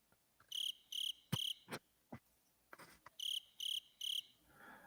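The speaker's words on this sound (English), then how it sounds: "Crickets." A crickets sound effect plays as two sets of three rhythmic chirps separated by a pause, clear and close, with a few soft clicks and thumps between them.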